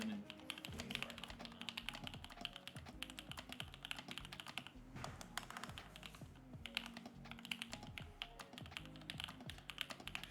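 A heavy mechanical keyboard is typed on steadily, producing a dense run of close, crisp keystroke clacks with small pauses and no talk.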